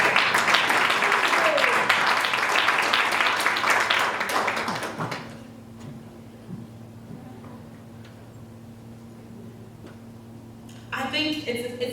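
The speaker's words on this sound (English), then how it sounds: "let's please give a round of applause for our second speaker, Cecil Pinkesa." An audience at a women's day conference applauds in a dense, steady burst for about five seconds, then the clapping stops abruptly and leaves a quiet room with a low hum and a short rustle near the end.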